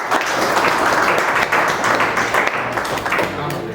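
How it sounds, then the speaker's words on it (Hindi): A seminar audience at a coaching institute bursts into loud, dense, continuous applause that fills the room, steady throughout and slightly easing toward the end. "सबसे पहले एक बार अपने लिए जोरदार ताली दीजिए।"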